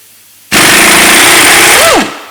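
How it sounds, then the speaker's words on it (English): An air impact gun hammers loudly and continuously for about a second and a half on a 21mm socket, working loose a front suspension fastener on a 2013 Mercedes-Benz E350, rising in pitch briefly before stopping. "it's just quicker when I'm using an air gun"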